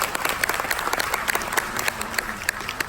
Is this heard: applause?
yes